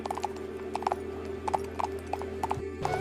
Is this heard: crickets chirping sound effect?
no